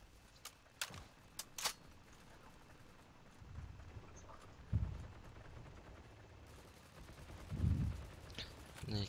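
Gunfire in the World War II shooter Heroes & Generals, a few sharp shots early then low booming blasts over a steady ambient rumble, with faint talking in the background.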